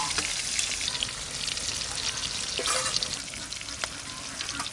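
Pieces of a large chela fish fry in hot oil, giving a loud, dense, continuous sizzle with occasional spatters and stirring scrapes close by, and no talking.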